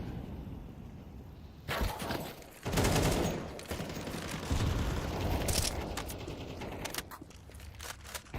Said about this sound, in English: Plenty of bullets being sprayed all over the place here